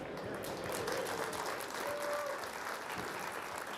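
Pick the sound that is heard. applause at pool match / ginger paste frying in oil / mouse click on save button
applause at pool match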